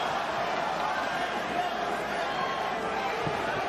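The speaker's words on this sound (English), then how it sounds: "the crowd reacts to the chant of Loma again" Boxing arena crowd chanting "Loma" for Vasily Lomachenko during a bout with Devin Haney, a broad sustained roar of many distant voices under ringside commentary.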